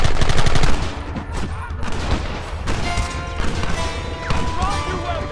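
Rapid gunfire in the Western video game Red Dead Redemption, loud volleys of shots and sharp cracks in quick bursts, with voices shouting over the shooting.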